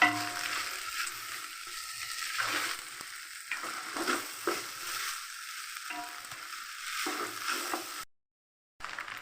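Cooked rice being stirred in oil in a pan for chicken fried rice, with soft sizzling and scraping spoon strokes repeating at an uneven pace, close and fairly quiet, ending in a brief silent gap.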